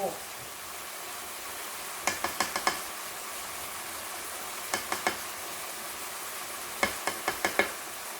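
Crushed jar garlic being stirred into a bolognese sauce with a constant close sizzle, broken by three bursts of quick tapping and scraping strokes against the pan.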